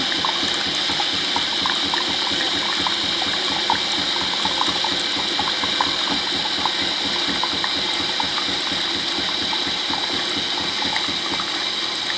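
Clean water gushes steadily through the milk frother of a Jura E6 Platinum espresso machine during its milk-system cleaning cycle, a continuous close hiss and splash with no talking.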